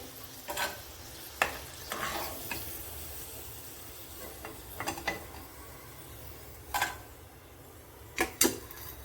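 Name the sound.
okra frying in oil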